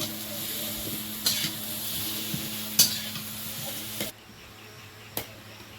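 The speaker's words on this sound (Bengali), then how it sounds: "আলুটা ভাজা হয়ে গেছে লাল লাল করে উঠিয়ে দেবো" Potato pieces fry in hot oil in a pan, a steady close sizzle with a few sharp metallic clinks and scrapes of stirring; the sizzle drops off sharply near the end.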